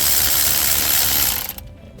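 Ratchet socket wrench turning a starter bolt on a 2006 Honda Accord 3.0L, a rapid loud close clicking ratchet for about a second and a half before it stops and fades into quiet.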